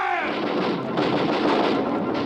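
Heavy artillery fire as a sound effect in a vintage radio drama of War of the Worlds, a loud continuous rumbling roar of blasts and booms filling the whole short stretch.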